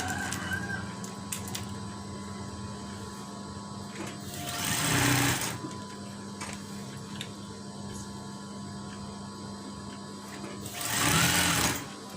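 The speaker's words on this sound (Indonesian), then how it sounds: "Kita jahit." A sewing machine stitching curtain fabric hums steadily up close with a constant whir, while two louder bursts of rattling stitching interrupt it and a rooster crows faintly in the background.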